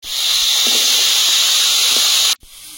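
Potatoes frying in hot oil in a home kitchen give a steady, loud hiss of sizzling that holds evenly for over two seconds, then drops sharply before a quieter sizzle resumes; no one talks.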